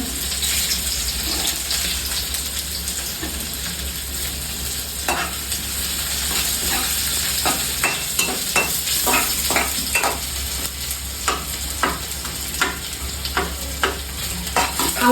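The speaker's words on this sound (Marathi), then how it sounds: "मिक्स कर" Onions and other food fry in a pan, a steady sizzle and hiss under a low hum, with a run of rhythmic spatula scrapes and clacks from stirring growing busier toward the end.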